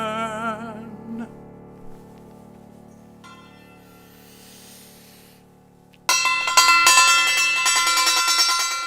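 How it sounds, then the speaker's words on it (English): A gong rings out in a home rehearsal setting, first with lingering tones that fade, then a sudden loud strike whose bright, shimmering resonance fills the air and slowly decays. "I'm ringing the gong."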